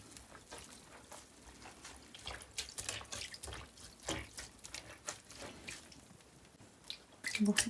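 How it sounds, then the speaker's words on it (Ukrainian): Water splashing and dripping into a basin as it is topped up for hand-washing delicate knitwear, with irregular trickles, drips and squishy sloshes, close and quiet, ending in a louder splash. "Багато води набрала, зараз ще додам."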